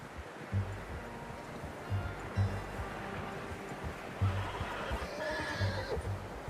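A horse in Red Dead Redemption 2 gives low snorts and nickers amid rustling, outdoor ambience, with a higher whinny-like cry rising toward the end, fairly quiet and close.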